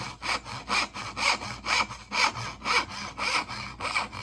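Hand saw cutting a wooden dovetail: steady back-and-forth rasping strokes, about nine even pushes and pulls, close and loud, with no talk.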